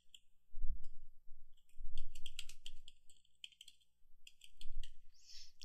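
Rapid clicky keystrokes on a computer keyboard as text is typed into signature form fields, close and fairly quiet, coming in short bursts separated by brief pauses.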